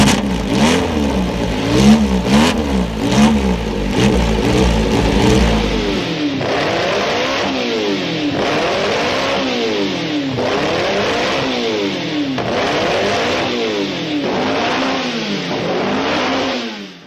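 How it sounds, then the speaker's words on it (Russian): A vintage Alfa Romeo racing car from around 1970, displayed in the Alfa Romeo museum in Milan, revs its exhaust in repeated rising and falling bursts, loud and close, settling into a rhythmic cycle of blips without any talking. "Ах, этот выхлоп."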